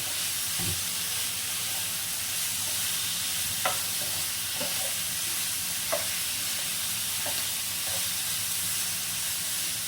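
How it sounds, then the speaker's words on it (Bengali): Paneer cubes sauté in a pan for a green paneer dish, a continuous soft sizzle and hiss with a few scattered clinks and scrapes from stirring. "এই পনিরগুলো দিয়ে আরও একটু ভালো করে কষিয়ে নেব"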